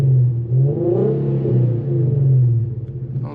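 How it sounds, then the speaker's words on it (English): A 2014 Infiniti Q50S with its 3.7 engine and a straight-piped exhaust missing catalytic converters, giving a quick close rev: a deep, loud, throaty burst that swells, holds briefly and drops back to idle. "So I'm gonna go ahead and do a quick little rev for y'all."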